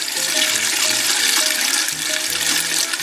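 Water swirling steadily in a blue bowl gold concentrator vortex, a loud continuous rush and gurgle like running water, with a faint tonal hum beneath.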